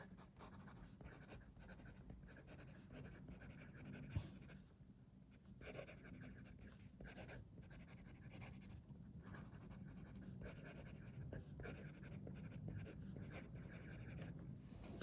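A Visconti Mythos Hades fountain pen writes with a wet ink on paper, giving a faint, continuous soft scratching of nib strokes with brief pauses between words, close and quiet.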